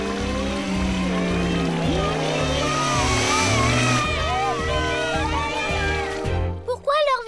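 Cartoon three-wheeled Grand Prix race cars arrive with a loud engine roar and whooshing effects under excited chattering voices and music, ending in a brief hush before more talk.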